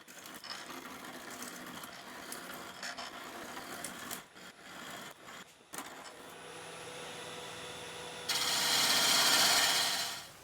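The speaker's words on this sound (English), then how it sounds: "And now onto another piece of oak to turn the handle." Continuous scraping and rasping of a tool against spinning oak on a wood lathe, turning a handle, with brief pauses, then a louder, brighter hissing cut before it stops.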